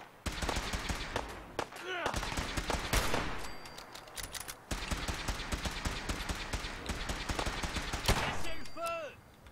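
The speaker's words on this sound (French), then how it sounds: "Oh, cette fusillade rime à rien quand même." Rapid gunfire from a shootout in the video game Fallout 4, with bursts of automatic fire and repeated single shots cracking densely across the whole stretch, loud and close, with a brief lull midway.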